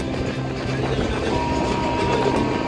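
Track noise from the Ajmer Sealdah Express running at 130 km/h near the Barakar river bridge and station: a loud, dense rumble with rapid rhythmic clatter of wheels over rail joints.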